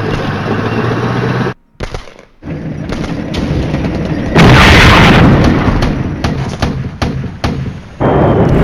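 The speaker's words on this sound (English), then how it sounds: "that's definitely some serious bombardment" Artillery bombardment in the war game Flashpoint Campaigns: loud booming blasts and crackling impacts over a droning engine-like rumble, with a big, sustained barrage swelling midway and more scattered bursts after.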